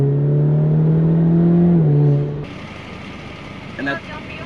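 An Alfa Romeo Giulia driven in dynamic mode gives a close, steady engine hum that rises slightly, then cuts off, leaving quieter cabin road noise with a brief small sound near the end.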